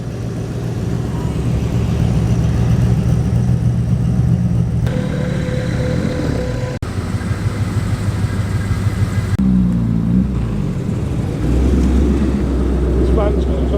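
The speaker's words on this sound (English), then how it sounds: "Very burbly 3500S, the manual gearbox version of the V8" A Rover P6 3500S with manual gearbox and V8 engine burbles at a classic car show, a steady low idle running close by, with a brief break and a deeper shift in tone near the end.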